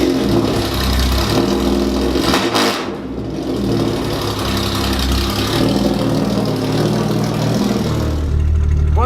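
Jaguar XK120 classic race car, the Fangio car, driven on the road with its engine loud and close, a steady rumbling drone rising and falling with throttle, one brief dip midway, then building again toward the end.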